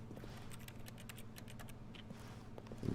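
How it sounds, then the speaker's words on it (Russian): Rapid keyboard-like typing clicks from repeatedly pressing E in The Stanley Parable, a steady run of soft taps over a low office hum, ending in a brief louder thump. "если много раз нажимать Е, как будто ты что-то печатаешь на клавиатуре, такой звук создается"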